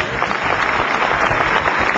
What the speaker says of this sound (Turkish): Cemal Bey için kuvvetli bir alkış